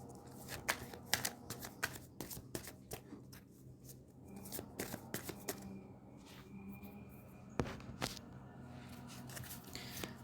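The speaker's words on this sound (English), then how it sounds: "we're gonna shuffle a few cards and see what do we get" Crisp, rapid riffling of a tarot card deck in several quick bursts, close by, with brief pauses and soft handling noises between shuffles.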